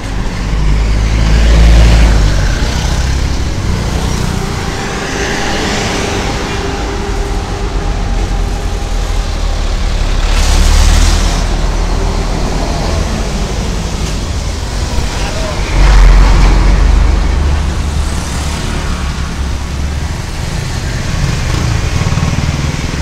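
Heavy road traffic beside a flyover construction project, a steady roar of passing cars and motorcycles with low engine rumble swelling and fading as vehicles go by nearby, mostly alone with no talk.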